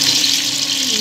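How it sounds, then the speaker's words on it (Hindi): Tap water runs steadily into a cooking pot while beef pulao with pre-soaked rice is being made, a close, continuous splashing stream with no pauses. "ये हम पानी इसमें ऐड कर रहे हैं।"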